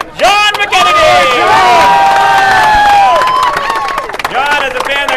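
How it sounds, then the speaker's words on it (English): A race crowd cheers, shouts and claps loudly for car number 73, driver John McKennedy, at the 2014 SPM 125 stock car event, with the roar staying strong, easing near the four-second mark and then rising again. "Big round of applause for car number 73, John McKennedy."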